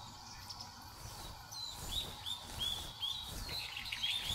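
Birds chirp in short, repeated high tweets, spaced fairly evenly over a steady jungle ambience in Metal Gear Solid 3, with no talking.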